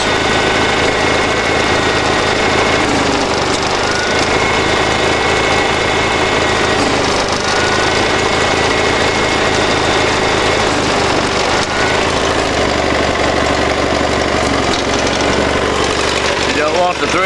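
A Gravely tractor engine idles loud and close with a continuous rough mechanical drone and vibration, shifting slightly in tone partway through while voices speak over it.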